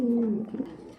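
A King Lahori Mundi pigeon gives a single short, low throaty coo, close and clear, fading out within about a second.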